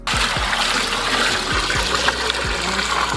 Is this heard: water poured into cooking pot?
yes